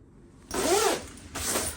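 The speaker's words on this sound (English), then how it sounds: "so I've just done the zip up" A YKK zipper on a Canada Goose Crofton hoodie is pulled up in one quick rasping stroke, followed by a second shorter zip, close and fairly loud with no talking.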